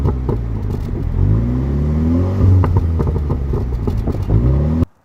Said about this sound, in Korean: 플랩 자체가 열렸다 닫혔다 하면서 그 소리, 배기음을 변화시키는 그런 시스템을 적용한다고 합니다